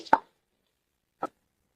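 Chopped amaranth leaves (thotakura) drop into a pan for a podi curry, making a soft thud followed about a second later by a second, fainter plop, with silence between.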